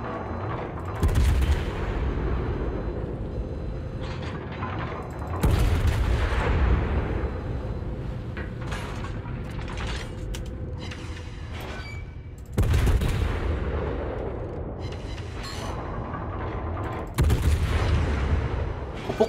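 Heavy naval guns fire in the World of Warships video game from a Des Moines cruiser: four loud booming salvos, each followed by a long rumbling decay, spaced several seconds apart.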